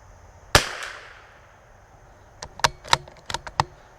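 A single sharp rifle shot from a CZ 457 cracks close and loud, its echo trailing off, followed a couple of seconds later by a cluster of faint clicks and taps.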